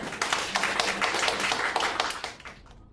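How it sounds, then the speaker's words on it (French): An audience at a French-language Christian conference claps together in a sustained burst of moderate, even hand claps for a few seconds, then the sound thins out and fades to quiet. "applaudissez."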